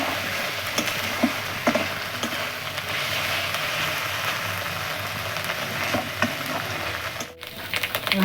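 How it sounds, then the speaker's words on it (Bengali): Bay leaf, cardamom, peppercorns, ginger, onion, garlic and green chilli fry in hot oil, giving a steady, close sizzle with scattered light stirring clicks throughout, a brief dip near the end. "মশলাটা ভাজা হয়ে গেছে"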